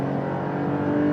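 A Porsche 911 Dakar sports car engine drones steadily while driving, a close, loud and continuous rumble with a constant tone and no voices over it.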